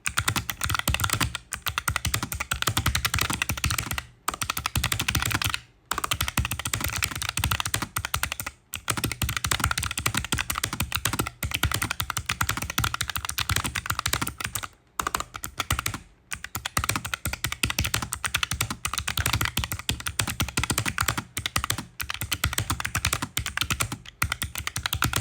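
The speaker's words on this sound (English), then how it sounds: "So yeah, let's do a typing test now." Typing on a Keychron K3 V2 mechanical keyboard with blue switches during a typing test, a fast, continuous stream of crisp, clicky keystrokes with a few brief pauses, close and alone.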